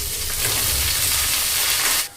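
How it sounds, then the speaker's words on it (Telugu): Curry leaves dropped into hot tempering oil with dried red chillies, a loud close burst of spattering sizzle that holds steady and cuts off abruptly at the end. "కొంచెం కరివేపాకు శుభ్రం కడుక్కుని వేసుకుందాం"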